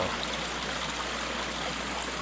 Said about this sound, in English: it's a trickle.